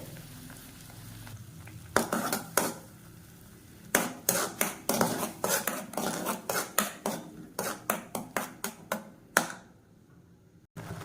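Grated carrot cooks in ghee in a pan while a spoon stirs it in a quick series of sharp scraping clacks against the metal over a soft sizzle, close and with no talking.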